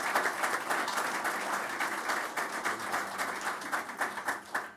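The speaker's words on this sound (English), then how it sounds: "Let's give all of our panel of experts a round of applause" Audience applause for a panel of experts at a decarbonization forum, a steady wash of many hands clapping that fades slightly toward the end, heard from within the hall.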